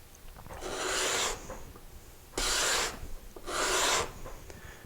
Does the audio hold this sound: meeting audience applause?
no